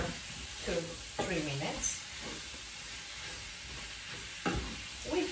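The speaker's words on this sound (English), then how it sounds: "And we're going to fry this for another" Chicken lecsó with onions frying in a pan gives a steady sizzle under a voice, with a few scraping stirs of the spoon.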